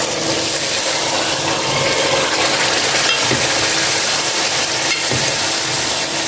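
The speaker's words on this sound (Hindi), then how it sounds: "अब इसमें हम डालेंगे दाल।" Chana dal is added to a cooking pot of mutton stock and stirred, giving a dense, steady sizzling, watery churn with a few dull knocks, loud and close, with no voices.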